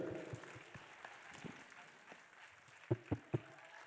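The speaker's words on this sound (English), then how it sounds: "you all can give a bigger round of applause" Students clap for their teachers at a school Teachers' Day event, scattered faint applause from a sparse crowd, with a few louder claps near the end.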